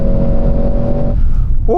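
A Mercedes-AMG C63 S E Performance accelerates hard on a quarter-mile run, its engine a loud, steady drone close by that drops away abruptly near the end.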